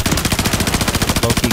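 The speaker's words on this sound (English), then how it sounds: "Bro has infinite ammo. 45 round mag, search and destroy." Video game gun with a 45-round magazine firing a long, unbroken automatic burst of rapid, evenly spaced shots, loud and close throughout.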